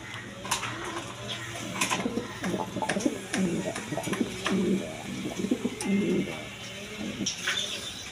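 A pair of Maxi racer pigeons coos steadily in a loft, low repeated coos layered over a busy background of other birds chirping, with occasional sharp clatters and faint voices nearby.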